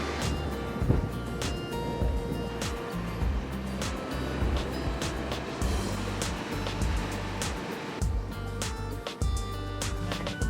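Waves washing onto Black Beach in Japan, a steady, loud, rumbling surf with broadband hiss and repeated thuds, heard up close without talk.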